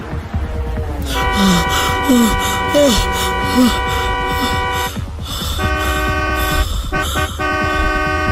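A car horn blares in a long, sustained, loud honk that cuts in and holds, briefly breaks, then resumes, following a dramatic narrating voice at the start.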